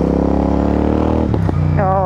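A loud Royal Enfield Super Meteor 650 motorcycle exhaust revs with a deep, throaty rumble, then drops off sharply before climbing again, with a voice briefly audible.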